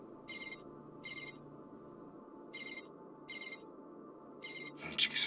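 Phone ringing in The Expanse Telltale video game, five evenly spaced electronic ring bursts over a low steady ambient hum, ending in a brief louder burst of noise.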